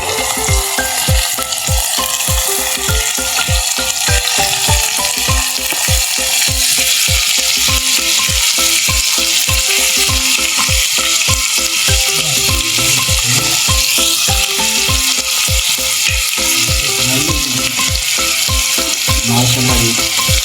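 Tomatoes and small green chillies frying in a little ghee, a loud continuous sizzle and crackle with a rapid, regular scraping rhythm of stirring running underneath the whole time.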